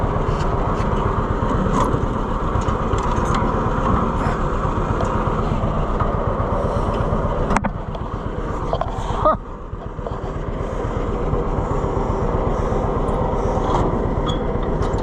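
A John Deere Model B two-cylinder tractor drives steadily across a hay field while spreading fertilizer, its engine a loud, continuous close-up drone with a brief dip near the middle.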